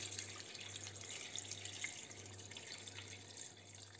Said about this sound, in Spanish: Y lo cubrimos de agua.